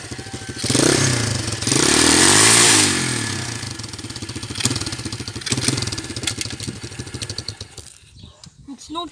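A YCF 125 pit bike engine revs hard with a clutch dumped too quickly, rising and falling in pitch through several surges, loud and close, then sputtering into choppy bursts near the end; a voice speaks briefly.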